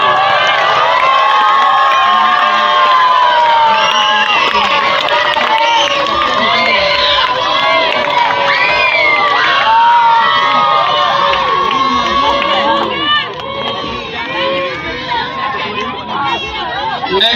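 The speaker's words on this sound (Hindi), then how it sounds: "जोरदार तालियां।" A large crowd at a football academy final prize ceremony cheers and shouts continuously, with loud excited voices and whistles mixed with clapping, dense and close throughout before easing slightly near the end.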